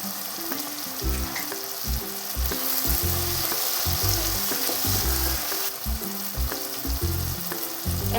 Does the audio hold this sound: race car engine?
no